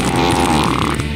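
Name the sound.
fart sound effect in You Don't Know Jack 2015 video game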